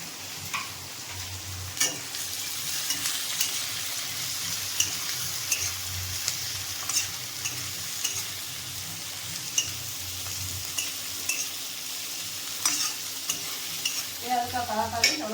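Onions sizzle and crackle steadily in hot oil, with occasional scraping stirs of a utensil against the pan close by.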